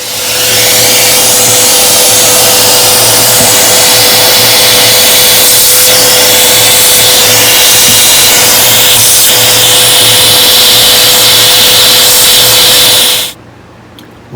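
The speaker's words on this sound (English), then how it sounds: "I used the vacuum cleaner and a paintbrush and just sort of brushed the dirt off" A vacuum cleaner run over the dusty chassis of an old GE 515F radio, a loud steady whine with a constant hum and some rubbing, continuous for about thirteen seconds before cutting off abruptly.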